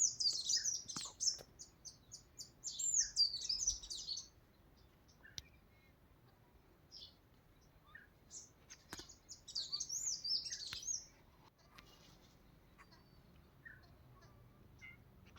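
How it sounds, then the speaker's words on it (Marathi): Bursts of high, quick chirping from a house sparrow nearby, coming in two clusters with quiet pauses and faint other calls between. "आता ही चिमणी आली"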